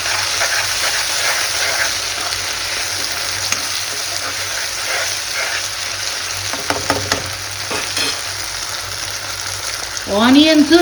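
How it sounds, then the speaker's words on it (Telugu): Onions, curry leaves and ginger-garlic paste fry in a pan with a constant close sizzle, broken by a few sharp stir clicks. Near the end a brief rising squeak cuts in. "ఆనియన్స్ రెడ్గా వేగాల, కాబట్టి వెయిట్ చేద్దాము."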